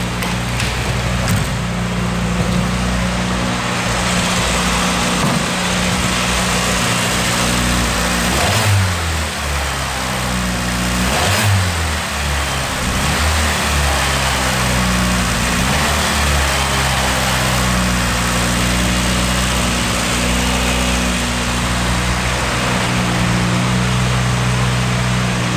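A car engine drones steadily with strong low harmonics, swelling and revving in pitch a couple of times over a continuous loud run, no voices.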